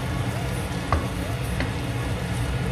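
Vegetables, onions and a ginger-heavy sauce sizzle steadily in a hot pan, a dense continuous frying hiss with a couple of brief utensil clinks, close and moderately loud.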